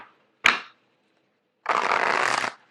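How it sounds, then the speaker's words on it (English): A deck of tarot cards is shuffled close by: one quick flick, then a pause and a dense riffling burst lasting about a second, with no talk. "Let me get the cards shuffled out."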